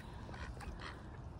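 A duck quacking faintly a few times in quick succession, alone and at a distance during handfeeding of ducks and swans.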